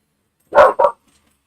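A dog gives two short, sharp barks close by, a quick pair in an otherwise silent room.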